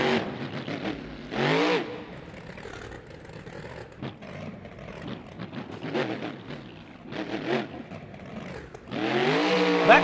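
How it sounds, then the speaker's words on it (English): A monster truck engine in the BeamNG driving game revs in a steady throttle rhythm at a parking lot Monster Jam event, rising and falling in repeated surges, fairly loud and close with no talk. "He's even got that signature Anderson throttle rhythm going right now"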